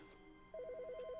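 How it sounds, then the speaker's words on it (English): Telephone ringing in the video game The Stanley Parable: Ultra Deluxe, a steady electronic trill of rapid alternating tones that starts partway through over a quiet ambient hum. "That's a phone."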